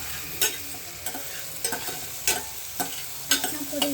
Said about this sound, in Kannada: ಈಗ ನಾನು ಆನಿಯನ್ ಹಾಕಿ ಸ್ವಲ್ಪ ಹೊತ್ತು ರೋಸ್ಟ್ ಮಾಡ್ಸೋ ಥರ ಬಿಟ್ಬಿಟ್ಟಿರ್ತೀನಿ